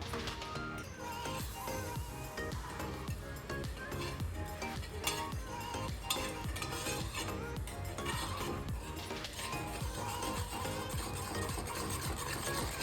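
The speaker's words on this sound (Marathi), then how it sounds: "आणि कंटिन्यू हलवत राहायचं आहे" A spoon stirs caramel custard pudding mixture in a pan continuously, giving a dense, steady scraping and rubbing that stays even and close throughout without pause.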